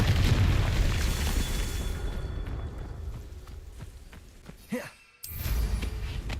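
A Confringo fire spell bursting in the Hogwarts Legacy game, a loud rumbling boom that decays, followed by a sharp crackling burst and another heavy blast near the end.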